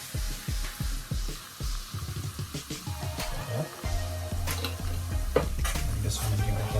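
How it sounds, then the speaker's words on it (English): Honey, garlic and butter being stirred in a pan with a utensil, rhythmic scraping and knocking strokes at first, then a louder, bubbling sizzle with clinks, close up. "I just want to give it a stir now"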